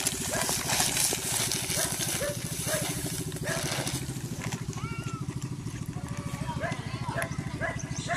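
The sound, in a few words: boat motor engine approaching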